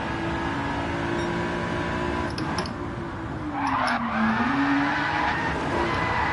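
A car in Gran Turismo 7 drones under steady engine load, then its pitch drops and a brief tire-scrub hiss rises as the handbrake pulls it into a skid through a corner.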